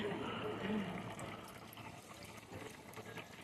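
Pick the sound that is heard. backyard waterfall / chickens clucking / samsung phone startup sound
backyard waterfall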